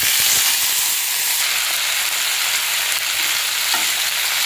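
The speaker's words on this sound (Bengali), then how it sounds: "ফোড়নটা হয়ে গেছে, এবার আমি সবজিগুলো দিয়ে দিই।" Vegetables, ridge gourd and potato, tipped into hot oil tempered with a five-spice mix in a kadai, producing a loud, steady close sizzle and hiss with faint stirring noises.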